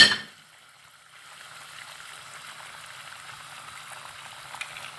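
Hot water in a cooking pot holding coco beans begins to boil, giving a faint, steady bubbling and simmering hiss after a brief clatter at the start, with no voices.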